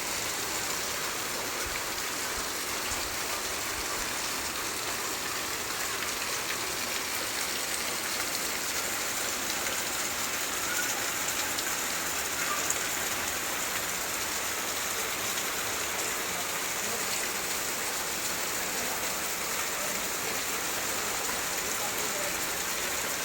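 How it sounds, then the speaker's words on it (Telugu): Heavy night rain pours steadily over waterlogged roads in Kollapur town, a dense, unbroken hiss that stays loud and even throughout. "వర్షం వర్షం వర్షం భారీ వర్షం భారీ వర్షం భారీ వర్షం"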